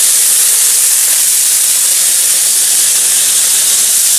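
A PA foaming head driven by a pump sprays thick snow foam at a hand car wash, a loud, steady, close hiss that runs unbroken throughout.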